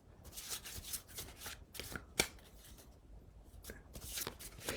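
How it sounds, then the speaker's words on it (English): A deck of 16 tarot cards being shuffled by hand, with repeated riffling and flicking bursts in an uneven rhythm, close and fairly quiet, including one sharp snap near the middle. "I'd shuffle the cards and I'd say something like, or shuffle the 16 cards"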